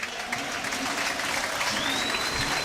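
Fans at a Sunderland v Newcastle derby react with a steady wash of applause and crowd noise, heard from a distance with a faint whistle-like tone rising near the end.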